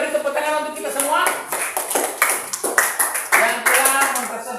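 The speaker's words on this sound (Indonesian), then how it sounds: "Oke, beri tepuk tangan untuk kita semua" A classroom group claps steadily and quickly throughout, the applause mixed with voices talking over it.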